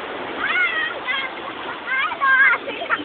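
Waves splashing and churning nearby, steady and bright, with children's voices calling over it.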